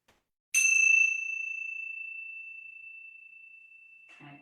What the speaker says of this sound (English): I'll ring my bell 3 times